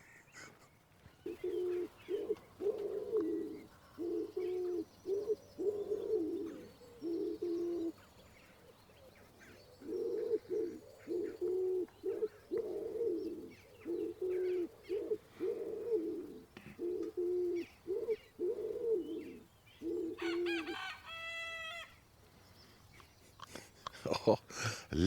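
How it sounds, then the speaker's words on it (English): A wood pigeon coos in repeated soft, throaty phrases, near and fairly clear, with short pauses between the rhythmic calls, and brief higher chirps from another bird near the end. "Wood pigeon. And another."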